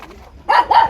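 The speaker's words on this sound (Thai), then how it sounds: "อย่าเห่าแล้วเดี๋ยวนี้" A dog barks nearby in a few quick, fairly loud bursts after a short quiet moment, with no talking over it.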